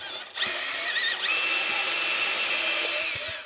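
A power tool cuts through a fence post while building a strong New Zealand-style fence brace, giving a steady, loud high-pitched whine that holds for about three seconds after a brief start, with no talking.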